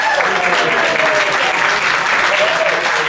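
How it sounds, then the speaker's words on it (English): Sunday Assembly audience giving a round of applause for the volunteers, loud, continuous clapping from a full room with a few voices mixed into the crowd. "Let's give another round of applause to all of our volunteers for helping out."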